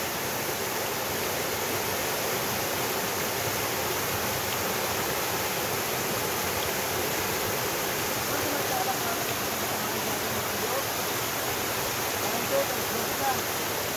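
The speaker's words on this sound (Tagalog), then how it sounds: "Ayan, ito yung Balite Falls." Balite Falls waterfall in San Jose del Monte, Bulacan, roaring as a steady, dense broadband wash of falling water, continuous and close throughout with no breaks.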